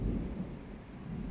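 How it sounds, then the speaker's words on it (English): Heavy rain pouring with a low rumble of thunder, a steady dense roar outdoors throughout, with no voices. "Heavy raining has been started here."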